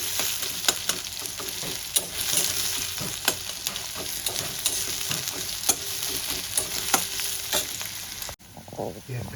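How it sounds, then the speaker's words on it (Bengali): Onions and chillies fry together in a pan for a stuffed begun bhaja filling; a continuous crackling sizzle runs under frequent spatula clicks and scrapes, then drops away abruptly near the end. "পেঁয়াজ আর লঙ্কাটা দিয়ে আমি একসঙ্গে সুন্দর করে ভেজে নেব।"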